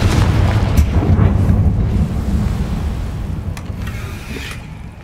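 Confringo fire spell blast in a video game, a loud, rumbling explosion with roaring, surf-like noise that peaks early and slowly fades out over several seconds.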